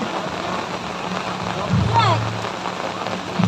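Steady rain pours onto a surface during an outdoor lenong theater performance, a dense continuous hiss with a brief voice-like sound in the middle.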